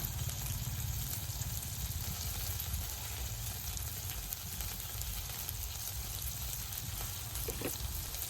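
Onion, garlic and spices fry in a pan with a loud, continuous sizzling hiss and a steady low bubbling rumble, and a faint stir near the end.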